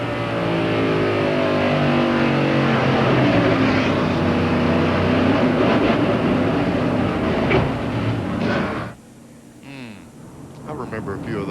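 A NASCAR race car at Richmond in 1993 roars from the in-car position, the engine rising and falling through shifts with a loud, harsh drone, then abruptly dropping away near the end.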